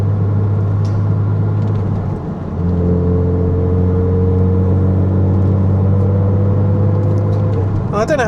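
A Porsche 987.1 Cayman S with a sports exhaust and other modifications drones steadily from inside the cabin while driving, its engine note dipping briefly early on before settling into a stronger, even hum.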